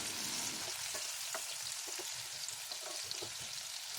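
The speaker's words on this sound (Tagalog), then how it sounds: "Iprito lang natin ito ng bahagya, huwag natin itong i-overfry." String beans fry in a pan of oil with a steady, close crackling sizzle and scattered small pops, quiet and continuous throughout.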